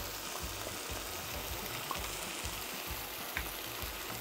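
Onion, garlic and chopped tomato frying in a pan, a dense continuous sizzle heard up close with a few soft stirring bumps.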